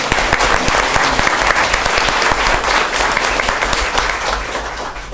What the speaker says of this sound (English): get a round of applause for those students.